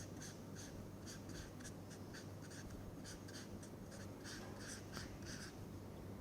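An equation is written on a board during a tutorial, giving a steady run of quick, rhythmic scratchy strokes, faint and close over constant background hum, with no voice.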